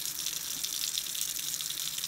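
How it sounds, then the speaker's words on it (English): Tap water runs steadily from a faucet into a sink, a continuous close hiss and splash as Breyer model horses are rinsed, with no talking. "I'm just going to give these horses that need to be rinsed off a real quick rinse"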